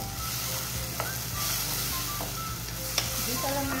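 Garlic and tomato sauté in a hot pan, a steady close sizzle and hiss with a few light stirring clinks and scrapes, and no talk over it.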